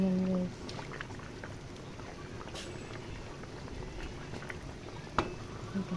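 Pork adobo bubbling in a pot, a steady low simmering hiss and churn of broth that runs throughout, with a brief clink near the end and a voice at the start.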